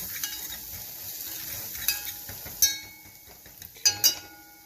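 Melted butter stirred around a hot pan, a faint steady sizzle broken by a few sharp clinks and scrapes of the utensil against the pan.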